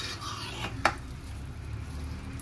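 Mutton mince being sautéed and stirred in a pan, a soft continuous sizzle with a sharp spoon scrape or clink against the pan near the start, close and fairly quiet.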